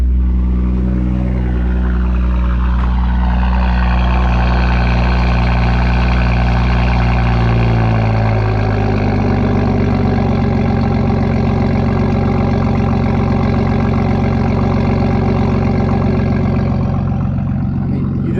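A loud BMW M240i engine idles with a deep exhaust rumble, the pitch dropping and settling into a steady throaty drone after several seconds.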